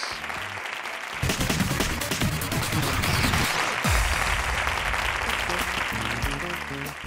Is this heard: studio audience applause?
yes